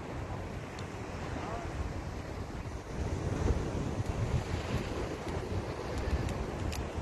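Strong ocean waves at Ko Olina beach lagoon on Oahu, Hawaii, a continuous surging wash mixed with heavy wind buffeting on the microphone.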